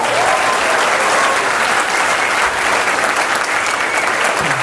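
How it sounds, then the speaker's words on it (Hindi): A live audience breaks into loud, sustained clapping for Shivam, a dense even wash of applause that fills the whole moment without a pause. "एक बार जोरदार तालियां शिवम को दीजिए"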